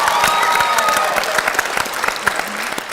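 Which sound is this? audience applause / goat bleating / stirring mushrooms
audience applause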